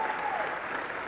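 A short stretch of steady crowd applause honours women's college basketball seniors in a gym, continuous and fairly even with a faint tone over it.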